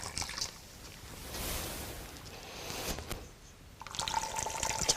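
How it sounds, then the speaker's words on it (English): Hot water splashing and dripping from a twisted cloth being wrung out by hand for a hot fomentation, a broad watery rush in the middle and a second burst of drips near the end, close and moderately loud. "by twisting it, you can get all the water out"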